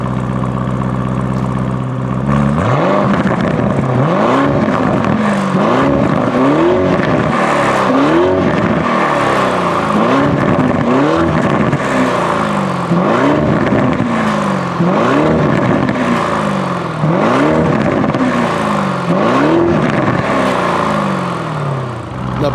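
A supercar engine revs hard again and again, about eight loud, rising-and-falling blips in a steady rhythm over a rumbling idle, close by and with no talking.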